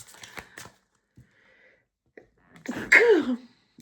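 A single loud sneeze, preceded by a sharp inhale and scattered small taps and rustles in an otherwise quiet room.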